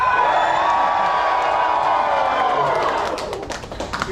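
Live concert audience at the Market Hotel screaming and cheering in a dense, sustained roar of crowd noise with scattered whoops and claps, loud and close, tapering off toward the end.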